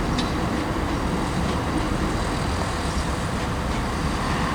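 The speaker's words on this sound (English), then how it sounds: "now arriving on the chat is a terminating ScotRail service from Glasgow Queen Street" A ScotRail passenger train from Glasgow Queen Street rolls into Aberdeen station, a continuous loud rumble of wheels and engine close by, steady throughout with no talk.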